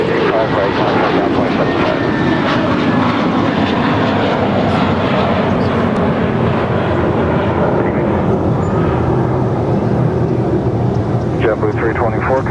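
Airliner engines roar continuously and loudly at Los Angeles International Airport, a steady thick rumble throughout, with radio chatter faint underneath.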